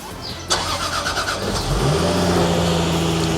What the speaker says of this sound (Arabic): هنلاقي العربيه اشتغلت معانا